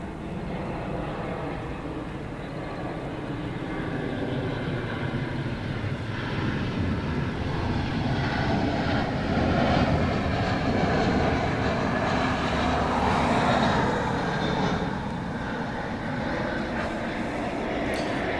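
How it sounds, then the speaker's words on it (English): A jet airliner arriving from China at Incheon International Airport in Seoul roars steadily overhead at close range, its broadband engine rumble swelling slightly toward the middle and then holding, with no talk over it. "here comes the flight from China"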